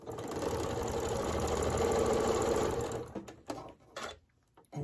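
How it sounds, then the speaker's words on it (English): A sewing machine stitches quilt block pieces for a Martha Washington star block, running steadily and close for about three seconds before slowing into a few stops and short bursts, with no talking. "I'm just going to sew them on the sides of our top one"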